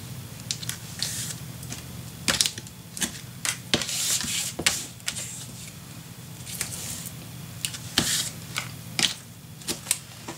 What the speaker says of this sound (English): Alright, putting some tape on.